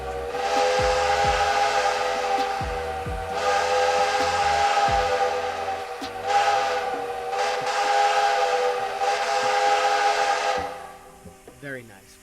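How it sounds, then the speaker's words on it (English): A quillable train whistle in the Roblox game Dg County sounds four long, loud, sustained steam-style blasts in close succession, each held for a few seconds, before fading near the end. "we also have our quillable whistle. And it does work very, very well, as I will demonstrate here"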